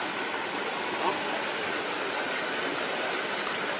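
Wastewater rushes steadily through a flow-measurement flume at the Estacada wastewater treatment plant, a broad continuous hiss of moving water without pauses.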